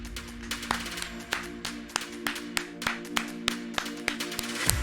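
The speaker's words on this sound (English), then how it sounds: "Clap it up for Angelite Uwu" Several people clap during a Football Manager Asian Cup simulation livestream, a sparse, uneven pattern of sharp claps at a moderate, roughly regular pace, some louder than others, with no talking.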